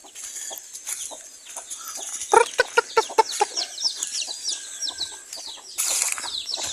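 Chickens clucking on a farm, a busy mix of overlapping clucks and short calls close by, with some sharp bursts and wing noise and no talking.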